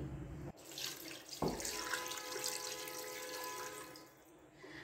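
Water pours from a tap into a pot for beef curry being made in a pressure cooker, a soft splashing stream that starts abruptly and runs steadily, close and fairly quiet.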